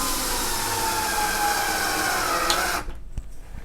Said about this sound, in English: put it on the Phillips bit on the drill, and just screw it in